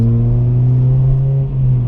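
Inside the cabin of a Honda Civic EP3 Type R fitted with an M2 exhaust, windows up, a loud constant drone of the engine and exhaust carries on evenly with no pops or bangs.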